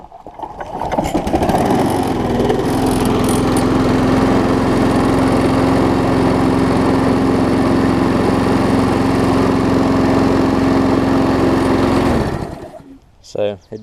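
A Briggs & Stratton auto-choke lawn mower engine, removed from a bad deck, starts up and runs at a steady, loud drone for about ten seconds before cutting off abruptly, with a voice briefly audible afterward.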